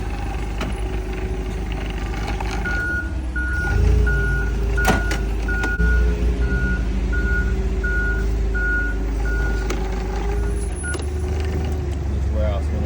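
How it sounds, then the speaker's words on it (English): A truck backing up at a warehouse, its reversing alarm beeping in a steady evenly spaced rhythm over a low engine rumble, with brief clanks and some nearby talk. "Got another truck backing up."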